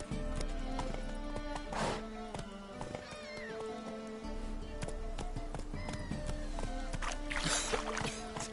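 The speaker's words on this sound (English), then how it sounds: "Run, Roach." Galloping horse hooves in The Witcher 3 on PS4, steady clip-clop under dense game ambience with a brief whinny and a rider's urging shouts.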